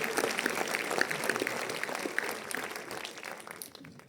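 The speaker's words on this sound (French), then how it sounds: "Applaudissez le Seigneur alors, parce que je vous entends pas." A church congregation applauding, a steady patter of many hands clapping at moderate volume with a few voices calling out, fading slightly toward the end.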